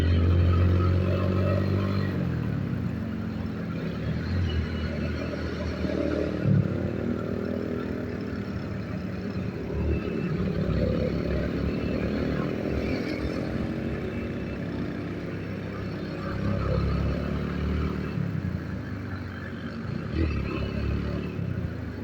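A Road Prince Wego 150 motorcycle ridden slowly along a Lahore road, its small engine humming and puttering steadily with faint rattles and passing traffic noise, loud and close throughout.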